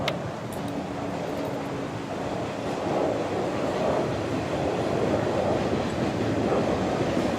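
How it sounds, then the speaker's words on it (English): A train rolls past on railway tracks outdoors, a loud, steady rumble with rattling wagons and some clickety-clack that holds for the whole stretch. "the train."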